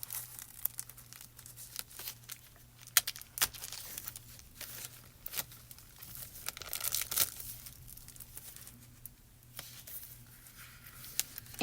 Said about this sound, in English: I'm just going to cut a piece of this Chrome Coat Gloss